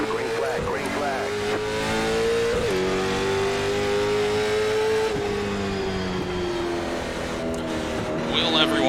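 Late model stock race cars accelerating at the green flag at Stafford in a racing video game. Several engines rise in pitch together, then drop back and climb again through the gears, loud and close.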